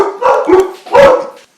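A dog barks three times in quick succession, loud and close, each bark sharp with a brief gap between them, heard alone in an otherwise quiet room.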